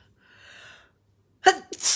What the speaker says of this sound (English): I think I'm going to sneeze.